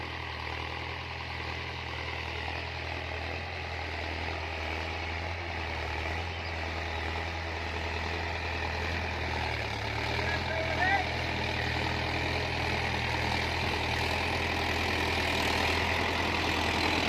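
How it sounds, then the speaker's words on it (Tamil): A Mahindra Yuvo Tech+ 585 4WD tractor, running with a 5-point cultivator, keeps up a steady low diesel rumble throughout at even, sustained loudness, with a voice speaking over it. "நம்ம 585 பர்ஃபார்மன்ஸ் பாருங்கப்பா. Mahindra 4 drive யுவோ tech plus 585"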